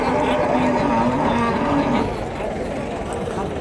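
Cattle and bulls at a livestock market in Uthangarai fill the air with low lowing and moos, close and continuous, amid a busy crowd murmur of people talking.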